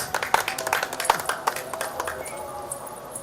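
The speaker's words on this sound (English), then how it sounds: "Come on, keep clapping, keep applauding, yeah?" Children clap at a Christmas cheer event, a quick uneven patter of hand claps with a few sharper accents that gradually thins and fades, with faint voices in the background.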